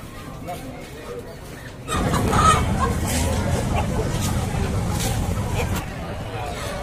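Grey Bangkok chickens cluck amid a busy traditional chicken market babble of voices in Tulungagung, with people talking nearby and a steady crowd noise.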